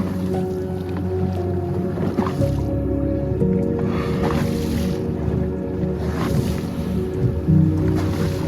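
A speedboat out on the sea off Madeira, its engine a continuous loud drone mixed with rushing water and hull splashes, steady for the whole stretch with no talk.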